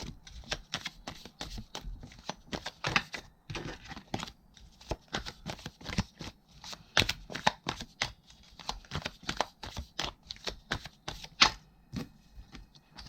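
Tarot cards are shuffled and handled close up, giving a dense run of quick riffling flicks and soft slaps in irregular bursts, fairly quiet with no talk.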